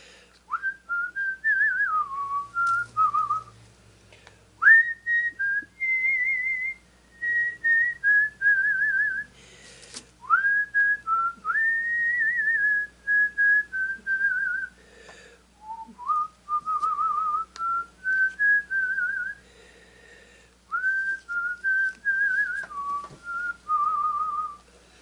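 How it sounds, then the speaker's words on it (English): A person whistles a melody alone, clear and close, in a series of sliding, warbling phrases separated by short pauses over about 25 seconds. "I did learn how to whistle from a very young age"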